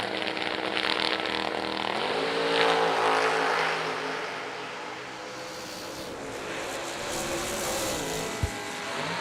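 Drag race cars of Tyler Banks and Austin Richardson roar loudly down the strip, engines howling continuously with rising pitch as they accelerate, a sharp mechanical clunk near the end, no talking.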